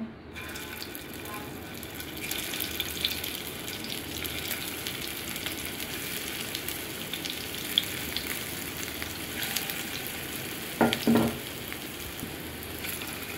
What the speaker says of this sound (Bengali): এখন আমি এগুলো ওইভাবে ভেজে নিব